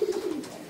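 Pigeons in a breeding loft give a single close, low coo that slides downward and fades within a second.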